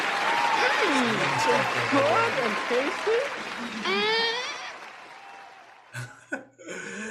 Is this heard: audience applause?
yes